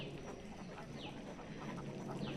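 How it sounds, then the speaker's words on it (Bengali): A few farm ducks, fed on water hyacinth, quack faintly at a distance with short nasal calls over a low, continuous background hiss. "এই যে এই হাঁসগুলো গেছে গা"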